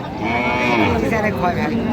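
A cow with her calf at a cattle market gives a drawn-out, close moo lasting about two seconds, over a busy crowd murmur.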